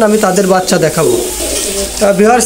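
Teddy-bloodline high-flying pigeons coo close by in repeated throaty rolling calls, while someone talks over them.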